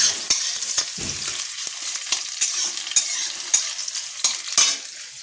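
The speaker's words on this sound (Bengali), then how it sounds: "চচ্চড়ি করে নিই, সব কিছু সবজি দিয়ে, বড়ি দিয়ে, পেঁয়াজ লঙ্কা দিয়ে ভাজা আছে।" Vegetable chochchori with bori, onion and chili fries in a pan with a steady sizzle, and a utensil stirring and scraping in sharp, repeated strokes close up.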